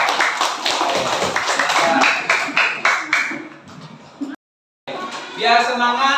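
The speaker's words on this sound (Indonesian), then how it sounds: "tepuk tangan ke kelompok 2" Group clapping and rhythmic tapping at a classroom gathering, applause for the second group, with voices over the claps, then a short gap and a return of chatter.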